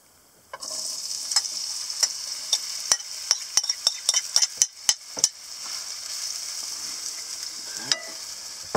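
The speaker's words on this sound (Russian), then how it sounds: "картошечка жареная на печке." Potatoes frying in a pan on a wood stove in a cabin during a fishing trip, giving a steady close sizzle with a run of sharp clicks and scrapes of stirring, and no one speaking.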